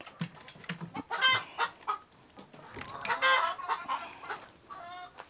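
Chickens cluck and murmur in a grower pen, a steady cluster of close, mid-loud calls with a few sharper squawks rising over the flock's chatter.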